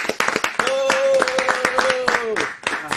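A studio audience claps for fashion models on a TV set, a short burst of applause beneath a voice that carries over the clapping throughout.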